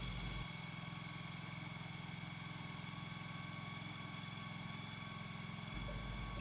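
A machine's engine idles with a steady, close mechanical drone while it moves a horse shelter into place over a mud-control pad. The drone is continuous and low, with no voices.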